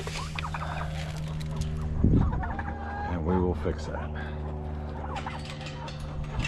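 Backyard chickens cluck and murmur in a coop during morning chores, with a steady low hum underneath and someone talking close over the birds.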